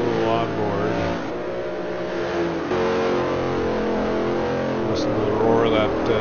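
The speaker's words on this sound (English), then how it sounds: "Listen to the roar of that 427." Onboard roar of a 427 engine in a historic Trans Am race car at Sears Point, a steady loud engine drone throughout, with the pitch rising and falling slightly and a voice talking over it.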